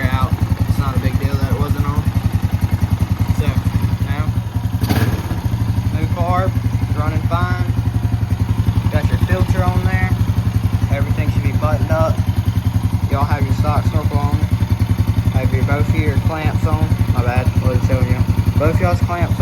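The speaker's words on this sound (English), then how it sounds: "It's making that like snorkel kind of sound because the airbox lid is off" A Honda Rancher 350 ATV engine idles steadily with its airbox lid off, giving a hollow, snorkel-like intake sound as a constant close drone while someone talks over it.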